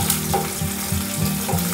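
Green chillies, mustard seeds, cumin and urad dal sputter and sizzle in hot oil for rava upma, with a dense crackle and rhythmic bursts of popping.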